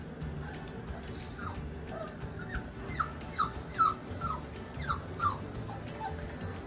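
Mastiff puppies whimper and fuss in a series of high, rising yelps and whines that cluster in the middle of the clip, close by over a low, steady background rumble.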